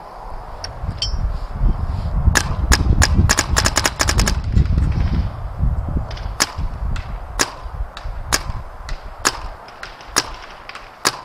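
Dye Matrix spool valve paintball gun firing over a chronograph, sharp pops in a rapid burst followed by slower single shots at steady intervals, over low rustling background noise.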